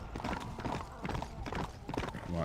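Horse hooves clip-clopping in the video game Red Dead Redemption: Undead Nightmare, a steady run of muffled hoofbeats over a continuous bed of game ambience, moderately loud and close.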